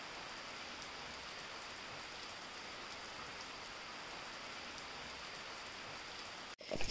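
Rain falling steadily in a river gorge, an even hiss of drops on surfaces heard close and alone, with a short knock at the very end.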